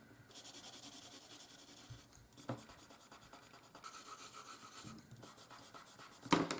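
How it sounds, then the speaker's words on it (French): A small pencil shades on paper while a cartoon game character is drawn. Quiet, close scratchy strokes come in rhythmic bursts with short pauses between them, and a louder tap comes at the end. "on peut ajouter l'ombre en bas du perso avec un petit crayon à papier"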